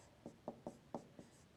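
A pen or pencil writes a fraction by hand on paper, making six short scratchy strokes in an uneven rhythm, close and quiet.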